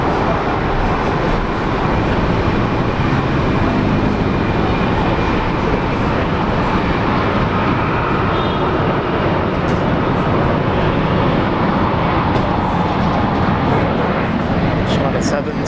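A China Airlines airliner takes off at Brisbane Airport, its engines a loud, broad, continuous roar sustained through a long takeoff run, with people talking over it.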